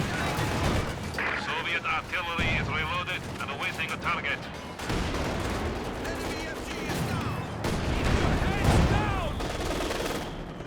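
Gunfire and heavy mortar shelling in the Company of Heroes 2 strategy game, a steady stream of rattling shots and booming impacts through a tense battle, loud and continuous.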